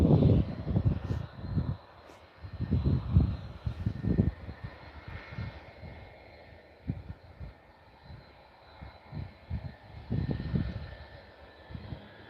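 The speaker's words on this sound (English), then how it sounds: "as the Icelander 757 taxis our way, and it's gonna park at one of the available gates right in front of us" An Icelandair Boeing 757 jet taxis toward an airport gate, its engines giving a steady far-off whine and rumble that swells and fades in uneven surges, with no voices.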